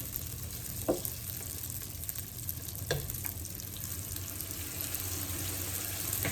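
Four vegan donuts frying in hot oil, a steady close crackling sizzle with a few sharper pops and clicks, no talk over it.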